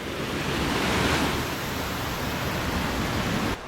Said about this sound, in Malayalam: ഈ വെള്ളച്ചാട്ടത്തിൻ്റെ പേര് കുത്തുങ്കൽ വെള്ളച്ചാട്ടമാണെന്ന്